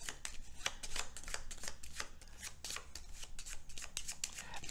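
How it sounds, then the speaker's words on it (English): Board game cards for Forbidden Island being shuffled, a steady run of crisp papery riffling clicks and rustles, close and fairly soft, with no talking. "These get shuffled."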